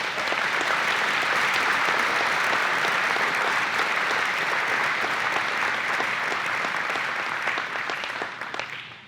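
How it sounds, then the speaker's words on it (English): An audience at an agency honor awards ceremony breaks into sustained, dense applause, steady and close, then tapering off near the end. "Let's give a round of applause for our honorees."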